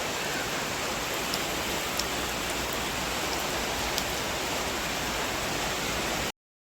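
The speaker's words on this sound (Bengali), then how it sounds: "আর বাইরে তো এতটা বৃষ্টি" Heavy rain pours outside in a dense, even roar with a few faint drips standing out, loud and unbroken until it cuts off abruptly near the end.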